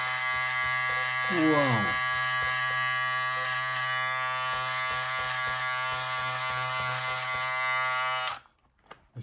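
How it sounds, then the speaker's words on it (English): A custom Edo Magic Clip electric hair clipper runs at 7,600 RPM with a steady, close, high-pitched motor buzz, a brief pitch sweep early on as it settles, then a sudden cutoff near the end; a voice briefly exclaims. "this is a custom clipper, a custom Magic Clip"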